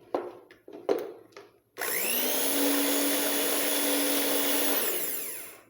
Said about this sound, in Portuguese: E agora nós vamos bater essa mistura até ela clarear.